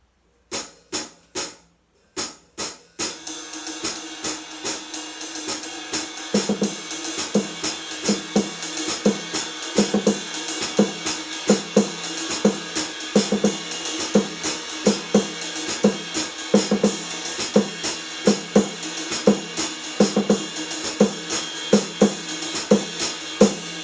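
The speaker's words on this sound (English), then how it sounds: "And we can play that on the snare." A snare drum plays a steady, driving Haitian yanvalou rhythm of crisp repeated strokes, starting with a few sparse hits before settling into a continuous pattern.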